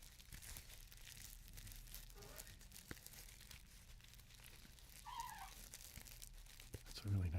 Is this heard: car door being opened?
no